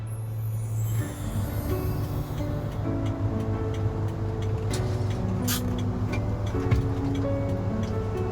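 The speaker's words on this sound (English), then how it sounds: "The minibus picked us up bright and early at the hotel." A minibus drives along a road near Hat Yai, its steady engine hum droning throughout, with a run of light ticking clicks over the top and no talking.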